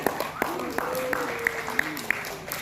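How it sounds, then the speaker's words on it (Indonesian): An audience at a formal event claps after an introduction, a moderate, continuous patter of applause with a few sharper individual claps, while a voice keeps sounding over it. "Boleh berikan tepuk tangannya yang meriah."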